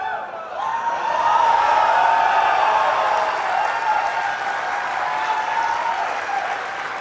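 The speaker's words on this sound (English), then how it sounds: "The reaction of the crowd when they announce Wi-Fi is just amazing." A large crowd at Nintendo's E3 2004 press event breaks into sustained, loud applause and cheering after a Wi-Fi announcement. The roar swells quickly and holds steady for several seconds.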